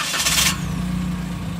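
A Perodua Axia car engine starting: a short starter whirr quickly gives way to a steady idle hum, close and fairly loud, with no talking.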